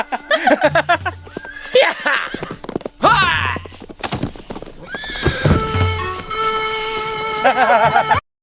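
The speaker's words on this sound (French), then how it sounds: "Ah, Mock sait y faire avec son cheval" A cartoon horse in a race whinnies loudly several times over quick clip-clopping hooves, with brief thuds and other cartoon sounds between the calls.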